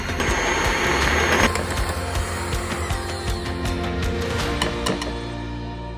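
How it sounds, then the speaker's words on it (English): An electric mixer whisks egg whites with powdered sugar in a steady, loud, close whir. Its motor hum runs unbroken, with faint ticks from the beaters against the bowl. "Continue whisking and slowly add 60 grams of powdered sugar."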